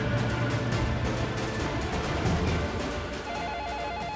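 A telephone rings in a Tamil TV serial scene, a repeating electronic ringtone pattern heard over a loud, busy background mix with music.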